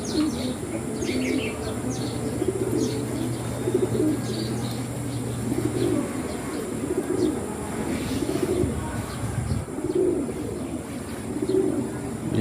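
A racing pigeon coos in soft, repeated low throaty phrases, close by, with faint chirps and background rustle around it.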